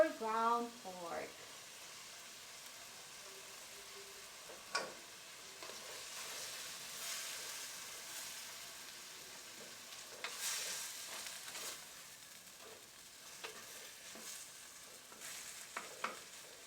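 Ground pork frying in a pan, a soft continuous sizzle with intermittent stirring scrapes and taps, faint and close, with a brief voice at the start.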